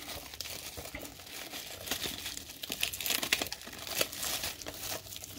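Plastic shrink wrap peeled and crinkled off a Blu-ray steelbook of Transformers The Movie in 4K, a close, continuous crackling and crumpling with louder bursts in the middle, no talking.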